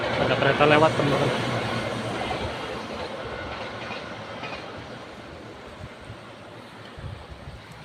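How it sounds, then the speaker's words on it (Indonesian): A train rumbles past at a distance through a quiet rural Japanese village, its low roar fading gradually, with a voice speaking over the start. "Ada kereta lewat teman-teman."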